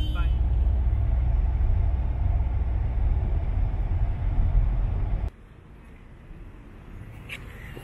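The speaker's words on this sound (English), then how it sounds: "He has to drive on the highway now." A car moving along a highway, a steady loud road rumble and engine hum that drops off abruptly partway through, leaving quieter cabin noise.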